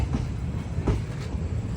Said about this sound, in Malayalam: ട്രെയിൻ അങ്ങനെ ശ്രീ സിദ്ധരൂഢ സ്വാമിജി ഹുബ്ബള്ളി ജംഗ്ഷൻ റെയിൽവേ സ്റ്റേഷനിലേക്ക് ഇതാ എത്തിക്കൊണ്ടിരിക്കുകയാണ്.